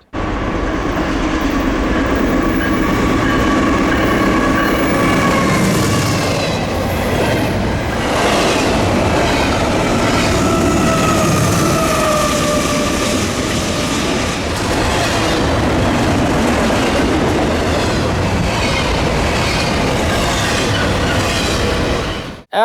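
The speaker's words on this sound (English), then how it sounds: "the first train, right before the sun went down, was Norfolk Southern 264" Norfolk Southern 264, a freight train hauling junk cars, rolls past close by at sunset, a loud sustained rumble with rhythmic clickety-clack of wheels and squealing rail noise throughout.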